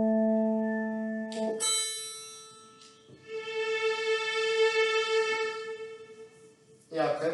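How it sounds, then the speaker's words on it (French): A single piano tone rings out, bright with clear harmonics, then sustains and fades, with a few other tones around it, quiet and close. "Voilà un son de piano."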